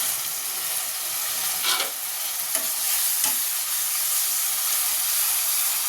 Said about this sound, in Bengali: এবার এটা একটু ভাজা ভাজা মতন হয়ে গেছে এবার এতে বাটা মশলা দেবো পেস্টটা দিয়ে দেবো